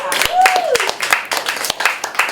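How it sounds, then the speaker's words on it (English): A comedy open mic audience claps in a brisk, scattered burst of sharp hand claps that stays steady for a couple of seconds. A whoop or whistle rises briefly early on. "y'all are clapping"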